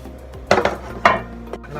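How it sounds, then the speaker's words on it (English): A baking pan being greased with coconut oil for a plant-based lasagne, a few close, sharp metallic scrapes and clinks in separate bursts against a quiet background, with no one talking. "Just going to grease the pan a little bit."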